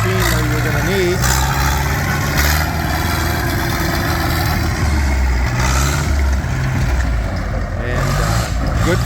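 A Bombardier Muskeg tracked vehicle's engine runs loudly and steadily throughout, a low continuous rumble with a brief whistle-like tone early on, and a voice talks over it.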